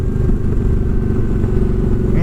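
A motorcycle cruises along, its engine producing a loud, steady, low rumble mixed with wind buffeting, continuous throughout without pauses.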